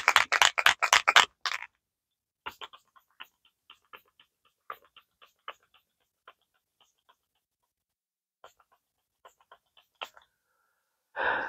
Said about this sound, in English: Now this spray, it looks like the Stay All Night Microfine Setting Mist from e.l.f.